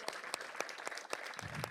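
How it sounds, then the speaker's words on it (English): A crowd applauds at a Hamilton County groundbreaking ceremony for its new Regional Safety Complex, a short burst of scattered, distinct claps heard from some distance, fairly quiet and without talk over it. "Let's give a big round of applause for everybody that was a part of it"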